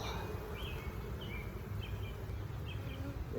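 Honey bees buzz steadily around a large beehive being combined with a swarm, a continuous close hum with faint bird chirps scattered above it and no talking.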